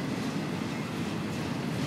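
A CP T-25 intermodal freight train led by GMD locomotives passes through Windsor, a steady, loud rolling rumble of wagons on rails that holds constant and close throughout with no talk.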